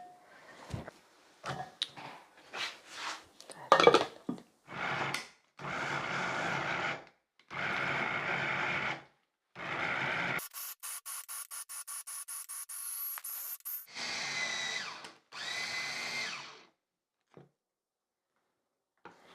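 A small electric mixer grinder grinding ginger whirs in several short bursts, then a higher-pitched sustained whine, with scraping and clunks between runs.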